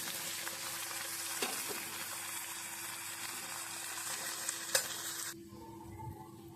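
Tomatoes sizzle and fry steadily in a hot pan for okra palya, a dense close crackle with a few stirring clinks before the sizzle drops away abruptly near the end.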